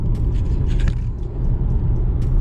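A BMW 530 E61 xDrive wagon is on the move, with a steady low engine and road rumble and a faint hiss of tyres and wind, continuous and close.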